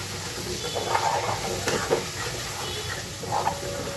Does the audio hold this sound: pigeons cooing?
no